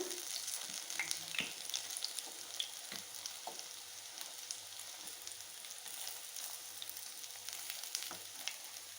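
Moong dal ponganalu fry in a paniyaram pan with a soft, continuous sizzle dotted with faint crackles and pops, quiet and close with no voices.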